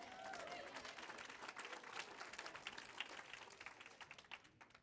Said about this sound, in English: Now clap for yourself.